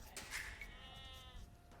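Sheep bleating in Age of Empires II, a faint wavering bleat under a steady game ambience of distant activity, with no speech.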